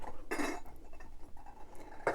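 A vintage English porcelain teapot is set down on a hard surface, giving a short ceramic clink with a second knock near the end over low room noise.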